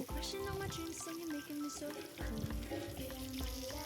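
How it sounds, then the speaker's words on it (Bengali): Diced potatoes fry over a medium flame in a home kitchen pan, giving a soft, continuous sizzle with occasional stirring. It sits quietly beneath louder background music. "আলুগুলো ভেজে নেব।"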